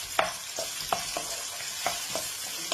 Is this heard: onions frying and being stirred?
yes